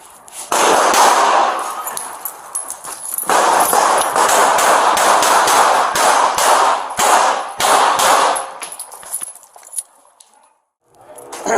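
Gunshots fired from a window toward police ring out as a dense, loud series of sharp cracks and metallic bangs, close and almost continuous for about ten seconds before briefly dropping off.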